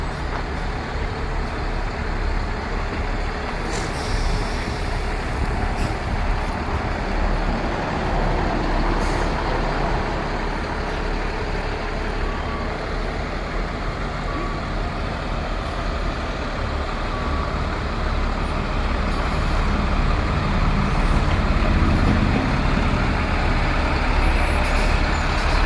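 A truck backs up and maneuvers, its engine a loud, steady low rumble throughout with faint hiss and a few brief clicks on top, close by.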